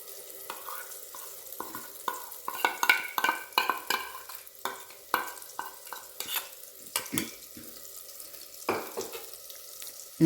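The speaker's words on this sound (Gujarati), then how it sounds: "ગેસની ફ્લેમ સ્લો રાખીને હવે આને શેકાવા દઈશું." Spice paste stirred into hot oil with cumin and asafoetida sizzles softly on a low gas flame, with repeated scraping stirs and brief clinks of the spoon against the pan, all close by and with no voices.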